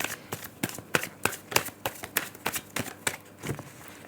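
Tarot cards being shuffled by hand, a run of crisp riffling flicks and soft card slaps in an irregular rhythm, close and fairly quiet with no talk.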